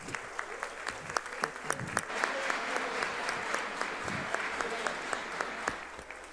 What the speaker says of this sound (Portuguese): Eu gostaria encarecidamente de uma salva de palmas a todos eles.